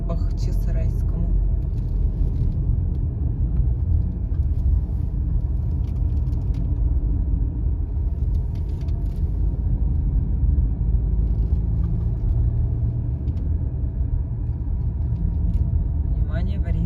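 A car climbs the Bakhchisaray highway on the road up to Ai-Petri, its engine and tyre noise forming a steady low rumble heard from inside the cabin throughout.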